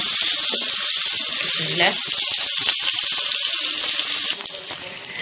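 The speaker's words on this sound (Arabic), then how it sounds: "السمنه والسخنه، هنزل بالرز والعدس المغسولين." Washed rice and lentils drop into hot ghee and oil, giving a bright, steady hiss and sizzle close up that eases slightly toward the end, with a brief spoken phrase early on.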